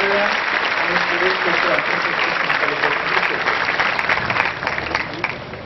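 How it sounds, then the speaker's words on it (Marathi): An audience at RBNB College in Shrirampur applauding to welcome a guest, sustained loud clapping from a crowd lasting several seconds with only faint background voices. "आपण सर्वांनी अतिशय जोरदार टाळ्या वाजवून आपल्या कॅम्पसमध्ये त्यांचं मनापासून स्वागत करूया"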